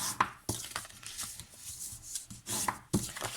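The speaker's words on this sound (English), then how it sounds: "I'm just going to fold and burnish" Paper being folded and creased for a 3D gift box, with a few soft, close swipes and taps as edges are burnished flat, quiet and intermittent with no talk.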